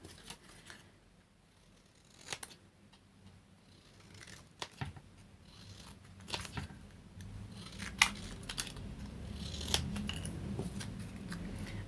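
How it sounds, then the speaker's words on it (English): Scissors snipping out paper words stamped with a Lynn Brown ELB30 stamp set for a vintage embossed tag, producing quiet, irregular close cuts and paper rustles with no talking. "So I just need to cut them out."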